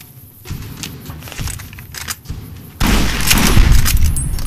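Gunfire in Fallout New Vegas, scattered bursts of shots over a quieter stretch, then a loud sustained roar of rapid fire and explosions filling the last seconds, with no talking.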